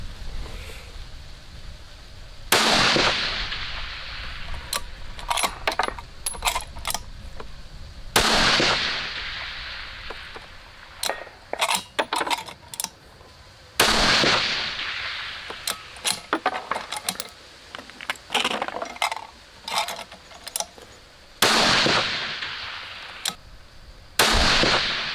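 Custom rifle built on a Pristine Action with a JC custom barrel, fired outdoors: several loud sharp gunshots spaced seconds apart, each with a trailing echo, interspersed with clusters of smaller clicks and clatter from handling.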